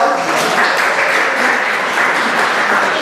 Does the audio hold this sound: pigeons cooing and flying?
no